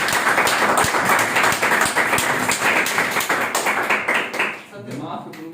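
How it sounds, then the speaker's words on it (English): Students in a classroom clap for a classmate, a dense burst of close applause that carries for several seconds before dying away, with a voice briefly heard at the end. "Clap for him."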